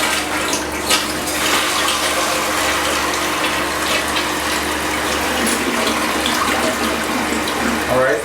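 A toilet flushing and its tank refilling, heard as a steady, loud rush of running water that continues without a break, with no talking.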